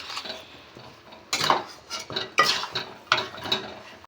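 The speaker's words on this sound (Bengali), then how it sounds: "ভালো করে নেড়ে দেব।" A pot of chicken curry is stirred after being uncovered, with several distinct bursts of metal spoon scraping and knocking against the pot, close up and with no talking.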